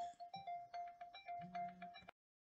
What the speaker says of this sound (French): Je vous reprends, c'était le téléphone.